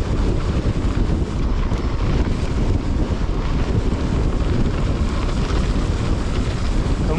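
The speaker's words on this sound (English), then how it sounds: "it's a fairly strong side wind there" Strong side wind buffets the microphone during a mountain bike descent on Exmoor, a steady loud broadband roar rushing without a break and no voices.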